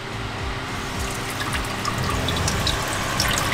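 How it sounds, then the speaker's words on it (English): Hot water running steadily from a faucet inside a van, a continuous close hiss and splash with a low hum underneath. "This is the first time we have ever had hot water in this van since owning it."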